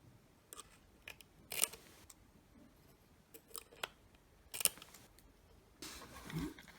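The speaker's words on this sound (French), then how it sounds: "nous allons passer au découpage du surplus de mèche" Scissors snip excess cotton wick on an RDTA vape atomizer, several short crisp cuts scattered irregularly, close and quiet, with faint handling rustle between them.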